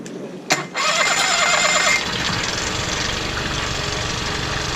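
A dinghy outboard engine is cranked and catches, a sharp pull giving way to a steady, fairly loud running drone with a rough mid-range buzz that settles after a couple of seconds.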